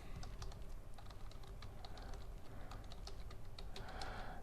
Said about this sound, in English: That's how you know you're ready to click and start typing.